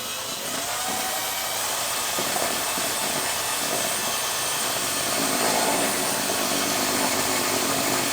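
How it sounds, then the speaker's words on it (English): A steady, whirring power-tool drone runs continuously as a drill-driven paddle mixer churns thick epoxy, loud and close throughout. "I got this little paddle mixer, which should make the job a little easier, and I'm just going to mix it"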